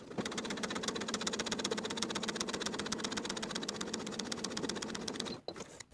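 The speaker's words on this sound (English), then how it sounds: "we're going to sew easing stitches using the longest stitch on your machine" A sewing machine runs on its longest stitch setting, sewing easing stitches on sleeves with a fast, even mechanical patter up close, then stops abruptly near the end.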